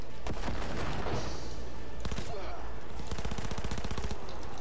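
Sniper and automatic gunfire in Cyberpunk 2077, loud bursts of shots and rapid rattling volleys filling the whole span with no pause.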